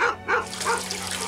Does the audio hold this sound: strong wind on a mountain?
no